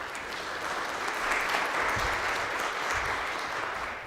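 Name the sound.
audience applause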